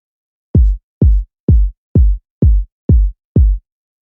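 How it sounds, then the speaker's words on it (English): Kick drum sample from an IQ Sound sample pack, struck seven times in a steady, evenly spaced pattern, each hit loud and boomy with a sharp attack and a short deep decay, heard alone in dry silence. "I always use the kicks from my highest quality sample packs."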